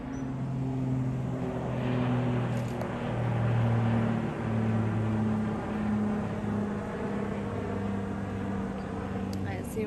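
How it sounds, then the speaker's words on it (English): Airplane flying overhead at night, a steady low droning rumble that swells slightly and fades over several seconds, distant and continuous beneath faint outdoor background. "Got an airplane coming over."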